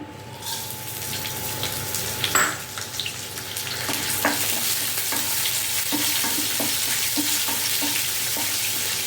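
A tempering of urad dal, mustard seeds, cumin, dried red chillies and garlic frying in a little oil, giving a steady close sizzle with scattered pops and light spoon clicks throughout, and no voices.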